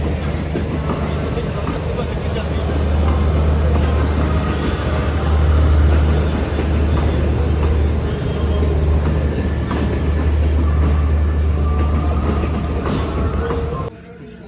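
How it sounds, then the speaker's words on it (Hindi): A red-coached passenger train bound for Peshawar pulls out of Nawabshah, its steady rumble and rail rattle loud and close from inside, swelling midway and cutting off abruptly near the end. "मैं जा रही दोस्तों लाल डब्बे वाली ट्रेन पेशावर के लिए, नवाबशाह को छोड़ रही है।"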